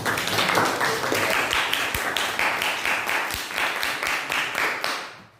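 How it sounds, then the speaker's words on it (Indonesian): Applause for a singer named Reni, a burst of many hands clapping close and lively, fairly loud and sustained before tapering off at the end. "Beri tepuk tangan buat Reni."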